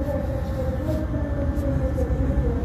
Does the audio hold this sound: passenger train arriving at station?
yes